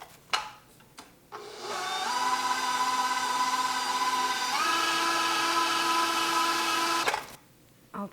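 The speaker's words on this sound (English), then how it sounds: "I'll take it off my mixer." An electric stand mixer beats peppermint pattie candy mixture in a steady whirring drone that shifts pitch midway as the load changes, running for about six seconds between brief pauses with a few clicks at the start and end.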